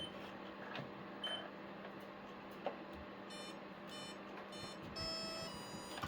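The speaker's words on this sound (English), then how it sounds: "you gotta wait for all the beeps" A 1/16 scale RC excavator sounds a series of short electronic startup beeps and tones faintly over a quiet hum, clustered in bursts toward the end.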